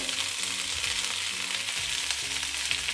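Spiced potatoes for a dry aloo sabzi fry in a pan with sugar added, giving a continuous bright sizzle up close, with faint stirring scrapes underneath and no voices.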